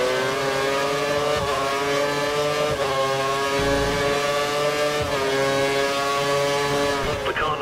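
A race car overtakes using DRS in a racing video game set in Brazil. A high, buzzing engine whine runs continuously, broken by short dips from quick gear changes every second or two.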